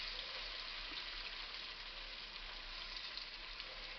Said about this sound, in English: we're just going to put them in our pan so that they can start browning on each side.